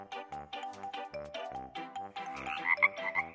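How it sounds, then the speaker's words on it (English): A toy frog croaks in a steady string of rapid pulses, clear and close, with brighter chiming tones near the end, during children's pretend play with bath toys. "And the little frog? Ribbit, ribbit, ribbit, ribbit."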